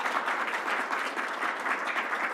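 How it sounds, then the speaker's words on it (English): A crowd at a governor's public briefing applauds a county executive, dense sustained clapping that stays even and full throughout. "let's give a round of applause to our county executive"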